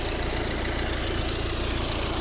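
A 2012 Volvo V60 with a 1.6-litre diesel engine idles steadily, a continuous even rumble with a faint rattle, heard close and uninterrupted, with no talking.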